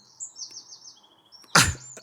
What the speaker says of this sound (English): Just robin birdsong. These are robins from my allotment plot.